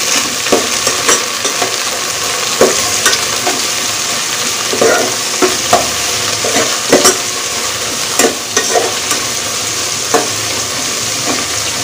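Mint and coriander leaves stirred into a frying pan of onions for coconut rice, with a continuous sizzle broken by repeated scraping and tapping of a spoon against the pan, close and fairly loud.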